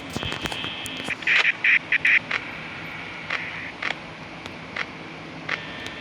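Cartoonish duck quacks from a Roblox FNAF co-op horror game, a quick burst of several bright squawks in the first couple of seconds followed by a few scattered single calls over a steady game hum.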